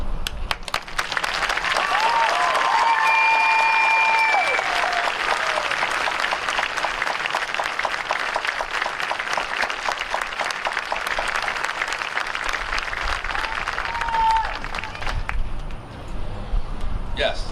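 A graduation audience at a high school ceremony applauds military-bound graduating students, with dense sustained clapping filling the hall for most of the stretch before tapering near the end, while musical tones and brief voices sound over it.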